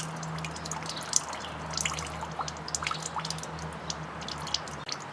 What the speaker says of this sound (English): Alright, so we're just about done draining.